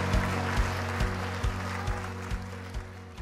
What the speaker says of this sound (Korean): 여러분들 다시 한번 축하의 박수 부탁드리겠습니다.